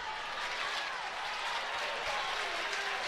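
A large crowd at an NCAA softball championship game between Ole Miss and Arizona applauding, a dense, steady wash of clapping held for the whole stretch at moderate distance.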